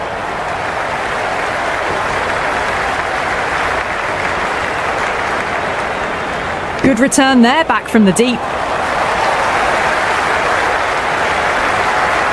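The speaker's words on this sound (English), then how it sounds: "It's the most enthusiastic crowd you could ever see right now. There's a buzz, a real buzz coming from the stands." Dense crowd cheering and applause roars steadily from the stands during a cricket match in the video game Cricket 26, with a commentator's voice briefly cutting in partway through before the crowd noise swells back.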